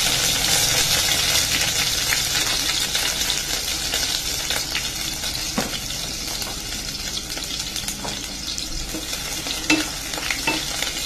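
Garlic and onion sizzling in a hot pan for a home-cooked lunch, a constant bright frying hiss with occasional stirring scrapes and clinks, close and steady throughout with no talking.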